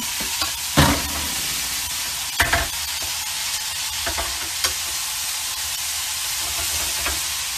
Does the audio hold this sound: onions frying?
yes